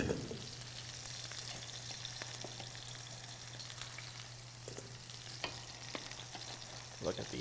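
Potato fries, pommes frites, frying in hot oil give off a steady, dense sizzle with scattered sharper crackles and pops throughout, close and even in level, with no voices.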